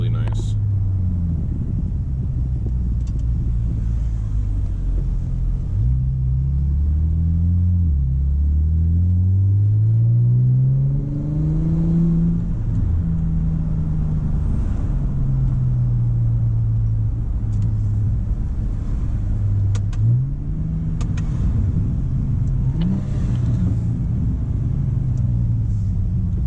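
A car with an electric exhaust cutout and deleted muffler rumbles steadily through a short drive around the block, its deep exhaust tone rising and falling with shifts and throttle, while a voice talks over it.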